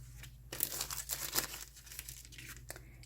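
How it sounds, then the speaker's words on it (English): Cellophane being handled for gift packaging gives close crinkles and crackling tears in several short bursts with brief pauses between them. The sound is fairly quiet and no one speaks. "the next thing that I'm going to do is just simply grab my cellophane"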